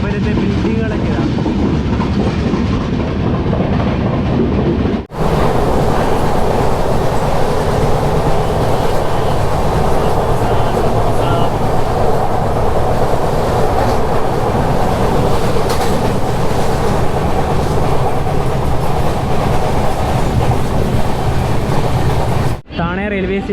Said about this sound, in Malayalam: താണെ റെയിൽവേ സ്റ്റേഷനിൽ നിന്ന് വണ്ടി എടുത്തിരിക്കുകയാണ്.